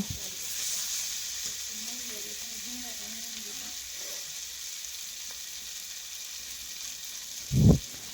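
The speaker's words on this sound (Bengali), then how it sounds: "আবার সব কিছু ভালো করে নাড়াচাড়া করে নেব।" Fish curry (macher jhol) with ridge gourd simmers and fries in a pan with a constant soft sizzle while being stirred, ending in one dull knock of the spoon against the pan.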